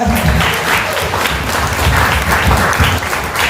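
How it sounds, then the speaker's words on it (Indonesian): Dense, loud applause from an audience acknowledging a guest named Pak Hendra, continuous clapping throughout with little else audible. "boleh tepukan buat Pak Hendra"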